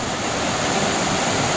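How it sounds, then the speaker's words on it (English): A waterfall pours into the Chattooga River, a steady broadband rushing roar of falling and flowing water, constant and fairly near with no voices. "Beautiful waterfall coming in right over there."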